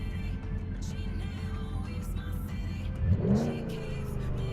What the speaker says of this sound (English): I'm revving the engine a little bit while I'm speaking just to see.